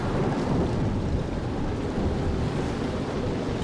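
Heavy rain roars with a deep, continuous rumble of thunder, a loud, dense wash of sound with wind buffeting the microphone and no voices.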